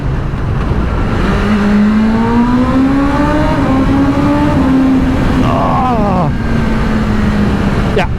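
A BMW M1000RR motorcycle engine revs and rises in pitch, a loud sustained wail climbing then holding steady, with wind rush and a rider talking over it.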